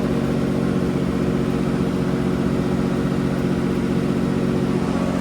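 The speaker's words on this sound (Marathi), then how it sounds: "गाडी एकदम फास्ट स्पीडनं पोहोचते" An MSRTC bus travelling at high speed, heard from inside as a loud, steady engine drone and road rumble with a constant low hum and no pauses, without any talking.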